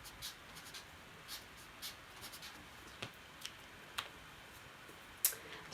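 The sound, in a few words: pen writing on paper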